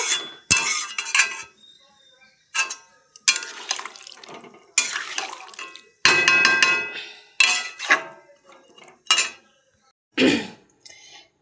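A metal lid set onto a cooking pot in a home kitchen, a series of loud close clanks and clatters with short quiet gaps between them.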